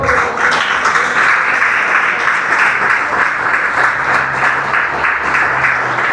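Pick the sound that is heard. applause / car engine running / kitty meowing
applause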